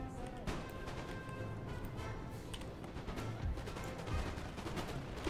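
Artillery fire in the Napoleon: Total War strategy game, with repeated distant booms and gunfire cracks scattered over a steady battlefield din, without a clear beat, at moderate-to-faint loudness.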